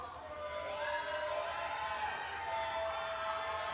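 Crowd noise fills a women's basketball arena as a player stands at the free throw line in a game between Alaska and Seattle Pacific. A steady, fairly loud roar and shouting from the stands holds throughout without pause.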